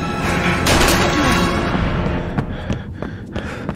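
Shotgun blasts in the video game Heavy Rain, a loud booming shot followed by a few sharper, fainter bangs trailing off.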